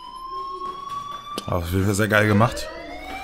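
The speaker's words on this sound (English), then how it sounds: "Hey, do you hear that fire alarm?" A fire alarm in Life Is Strange rings with a steady high electronic tone, then someone speaks loudly over it for about a second before the alarm tone carries on alone.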